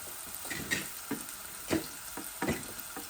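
Garlic and onions with salt fry in a pan, giving a faint, uneven sizzle broken by short bursts of stirring and scraping against the pan.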